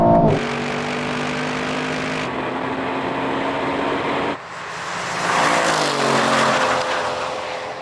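Aston Martin V12 cars run a drag race, their engines roaring loud and close, climbing in pitch, cutting off abruptly at a gear change, then surging again as they rise through the revs.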